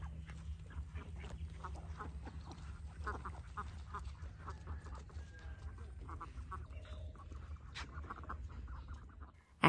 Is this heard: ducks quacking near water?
yes